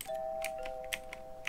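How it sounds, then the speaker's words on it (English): A doorbell in Hitman 2 chimes with a sustained two-tone ring, heard close and clear, while soft clicks and taps, like keys or footsteps, sound lightly around it. "ring the doorbell here"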